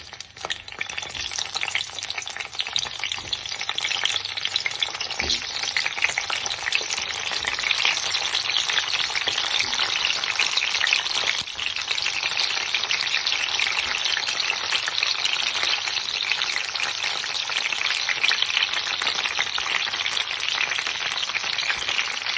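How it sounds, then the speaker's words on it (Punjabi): Bell peppers (shimla mirch) fry in hot oil on a gas stove turned to low, making a loud, steady, dense sizzle and crackle that continues without a break, with occasional faint clinks. "ਤੇਲ ਗਰਮ ਹੋ ਗਿਆ ਤੇ ਗੈਸ ਸਿਮ ਕਰਤਾ ਹੁਣ ਇੱਕ ਇੱਕ ਮਿਰਚ ਇਹਦੇ ਵਿੱਚ ਰੱਖ ਦਾਂਗੇ"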